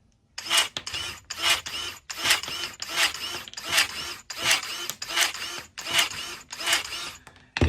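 Dewalt 20V battery electric pruning shears cut through a 1/4 inch dowel rod, giving about ten evenly spaced bursts of motor whir and snipping close by, with no talking.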